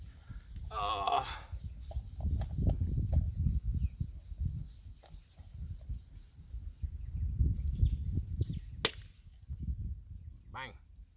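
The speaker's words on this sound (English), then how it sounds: "sanding it all back with some 120 grit sandpaper" Rough, scratchy rubbing strokes of 120-grit sandpaper on a car engine bay repeat in irregular bursts, close by, with occasional clicks and a brief voice.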